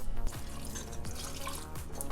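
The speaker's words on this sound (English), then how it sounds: "So I will need to add water to this." Water pours into a blender holding peas and eggplant sauce being made in a home kitchen, a steady close trickle and splash with faint drips.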